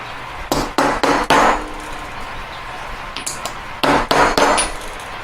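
A weighty nylon-faced hammer raps a macramé bracelet in two bursts of three or four firm, evenly spaced knocks, loud and close with a short pause between the sets.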